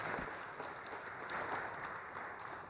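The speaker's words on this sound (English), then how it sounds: "Please give a little applause for Dr. Behera and his beautiful talk." An audience applauds after a talk at an Expo 2025 session: a steady, dense wash of clapping that holds evenly for a few seconds without pausing.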